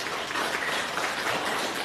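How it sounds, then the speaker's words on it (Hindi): Steady applause from an audience after a yoga demonstration by Aarti and Aaradhya, continuous broadband clapping throughout with no voices. "आरती जी के लिए और आराध्या के लिए एक बार जोरदार ताली बजा दो भाई"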